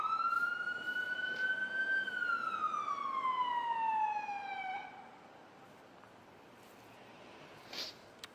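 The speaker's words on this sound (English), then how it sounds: "going inside with those lights and sirens. And I hear more coming right now." A police siren wails with a rising then falling tone for several seconds during a large police response near Lloyd Center, then fades away, leaving quiet outdoor background.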